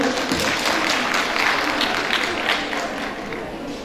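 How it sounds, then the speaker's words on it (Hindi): Clapping from the audience at an International Women's Day gathering welcomes a guest, a steady patter of many hands close by that gently tapers toward the end, with possible murmurs underneath. "मैं निवेदन करूंगी वृत्त सरहन की तालियों से इनका स्वागत करें।"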